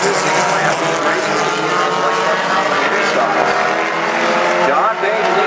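Mini stock race cars circle South Sound Speedway in single file, a loud continuous roar of several engines blending and droning without pause.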